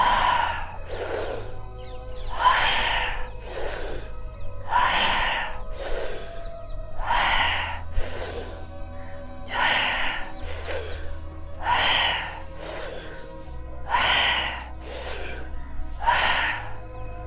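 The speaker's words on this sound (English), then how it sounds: "Continue with the breathing." Slow guided meditation breathing repeats in a steady rhythm, with about eight deep, close breaths, each a strong airy inhale or exhale separated by brief pauses, over a low background hum.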